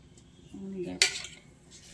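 A pan is set down on a stovetop with a single sharp metallic clank, preceded by brief handling rattle and followed by quiet kitchen background.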